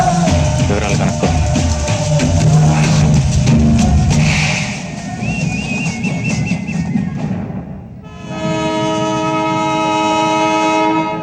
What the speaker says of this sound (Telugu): అయ్యో ట్రైన్ కదిలిపోతుంది.